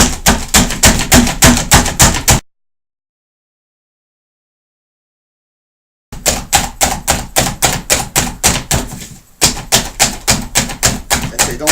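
A Slap Chop plunged repeatedly onto onion and vegetables, making quick rhythmic clacking bursts, then several seconds of silence before the chopping resumes at a steady pace.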